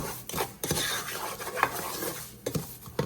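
A spoon stirring halwa in a pan: uneven scraping and clinking of metal against the cooking pan in short strokes, close and fairly quiet, with no talking.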